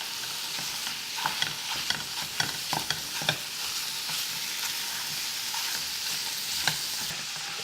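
Raw Mexican chorizo frying in a pan while a utensil breaks it into crumbles, a steady sizzle punctuated by irregular scraping clicks and taps, close and without talk.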